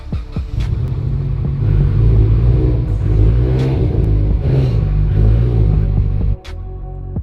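A Mitsubishi Evo X is driven slowly up onto ramps, its engine giving a loud, steady low rumble with mild throttle swells, then dropping off sharply near the end.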